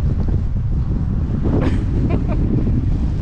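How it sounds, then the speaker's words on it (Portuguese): Strong wind at Mount Charleston near Las Vegas roars steadily against the microphone in a constant, heavy rumble, with a few faint higher whooshes rising briefly partway through. "O vento está muito forte."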